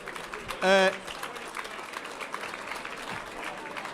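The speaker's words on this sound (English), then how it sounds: "please keep the applause going" Steady applause from a crowd at a business awards ceremony fills the background, with a short tonal whoop or cheer rising briefly above the clapping early on.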